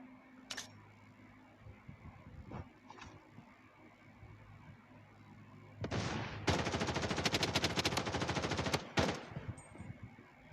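Automatic gunfire in the shooter game Blood Strike: a couple of isolated shots early, then a loud sustained rapid burst lasting a few seconds before cutting off, with a few trailing shots.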